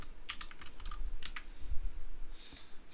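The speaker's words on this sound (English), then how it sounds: "let me type the admin and the username and the password." Typing an admin username and password on a computer keyboard, a quick close series of light key clicks in short bursts with brief pauses between, then a single final keystroke.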